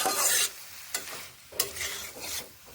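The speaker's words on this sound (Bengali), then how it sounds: "আমার এই সবজিগুলো খুব ভালোভাবে নরম ও সফট হয় বেশ ভালোভাবেই এগুলোকে এইভাবে কষিয়ে নিচ্ছি" Green beans and other vegetables sauté in a pan, the spatula dragging through them in bursts of scraping and shuffling over a quieter sizzle, with a few sharp scrapes at irregular intervals.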